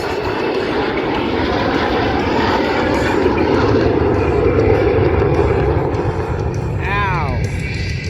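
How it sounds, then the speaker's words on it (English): MiG-17F fighter jet roaring through a tight turn at an Atlantic City airshow, a loud, sustained engine rumble with a pitch sweep near the end as it passes, under an announcer's voice. "the MiG-17 was the tightest turning fighter jet anywhere in the world"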